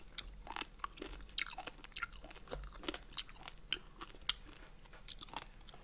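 Close, quiet chewing of sea squirt (mideodeok) taken from braised monkfish, with soft crunchy bites and wet mastication repeating steadily throughout.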